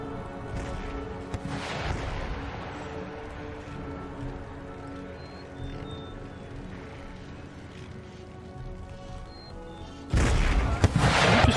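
Mortar and artillery fire in the Empire Total War video game, scattered booms and cracks over a steady battlefield din, with a sharp loud burst of firing near the end.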